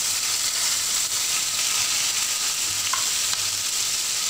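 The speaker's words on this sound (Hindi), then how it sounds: "प्याज को थोड़ी देर तक भूंजेंगे" Chopped onion frying in hot oil with cumin and asafoetida, a steady close sizzle throughout with no speech.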